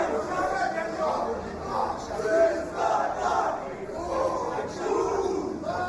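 Crowd of fight supporters at a SuperFight event chanting and roaring in rhythmic swells, a large indoor arena crowd with repeated rising waves of voices, loud and continuous.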